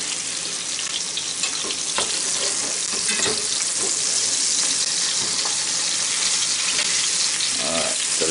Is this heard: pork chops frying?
yes